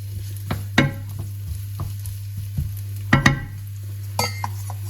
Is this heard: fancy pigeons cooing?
no